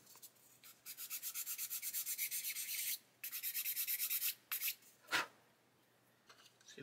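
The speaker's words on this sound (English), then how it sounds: "Let me try sanding some of this away." Repeated rhythmic sanding strokes on a plastic part of an Airfix 1/24 Spitfire Mk.IXc model kit, close and fairly quiet, in two runs of quick back-and-forth rubs with short pauses and a sharper scrape near the end.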